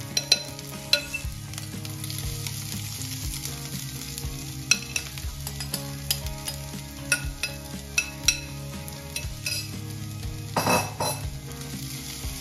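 A spatula scrapes and taps in a pan while stirring poha, with a steady sizzle underneath, sharp clinks punctuating the stirring at irregular intervals, close up.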